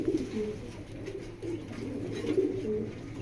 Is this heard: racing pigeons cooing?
yes